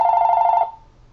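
A telephone rings loudly and close by with a single trilling electronic burst that cuts off abruptly partway through, followed by near silence.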